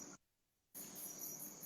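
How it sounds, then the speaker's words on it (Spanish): Cicadas buzzing steadily on a farm in Villeta, a bright high-pitched drone that cuts out briefly and then returns at full strength. "Se oyen muchos ruidos allá como de chicharras y se oyen perros y animales"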